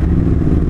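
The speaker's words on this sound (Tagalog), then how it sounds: "Ramdam mo siya, nag-change ng gear 1." A Honda X-ADV 750 motorcycle engine rumbles loud and close in a brief, dense low drone as the bike goes into first gear, with no talking.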